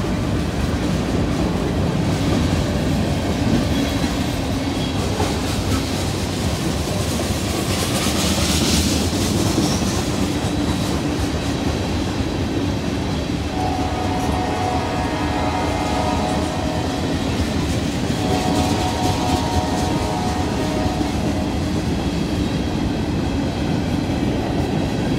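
A mixed freight train with grain hoppers on Norfolk Southern rumbles past steadily and loud, with rhythmic clickety-clack of wheels over rail joints and occasional faint squeals, continuous throughout.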